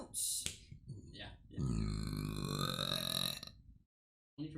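A woman lets out one long, loud, drawn-out burp lasting about two seconds, preceded by a few short vocal sounds and followed by silence.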